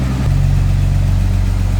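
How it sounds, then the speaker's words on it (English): A warmed-up 1955 Chevrolet 3100 with its 235 inline-6 Thriftmaster engine settles from high idle into a steady, close, loud low rumble with an even pulsing beat. "it's warmed up, come off the high idle. There it is, the 235 inline 6 Thriftmaster"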